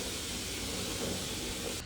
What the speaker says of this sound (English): I thought I would give my dress a bit of a steam, and to be honest, it really needed it.